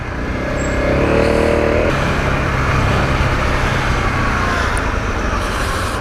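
A Honda CRF250L motorcycle rides through heavy rain in traffic, its engine droning steadily beneath a loud, constant wash of rain and wind noise for the whole stretch.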